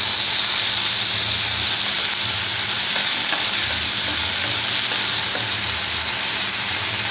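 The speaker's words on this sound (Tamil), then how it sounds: "வெங்காயம் ஒரு 2 மினிட்ஸ் வதங்கட்டும்." Onions frying in a hot pan with salt and dried red chillies, giving a loud, continuous sizzle and hiss with occasional soft stirring scrapes, and no voices.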